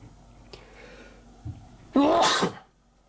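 A single close, loud sneeze bursts out after a couple of small breathy intakes, then trails off into quiet, with no words spoken.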